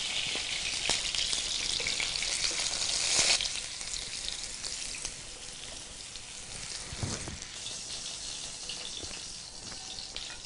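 Chicken pieces shallow-frying in a pan until golden, a dense, steady crackling sizzle with bright spitting pops and occasional scraping stirs, close and loud, no one speaking.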